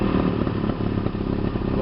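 A 1982 40 hp Mercury outboard motor runs just after starting, a steady loud clattering engine drone close by with no voices.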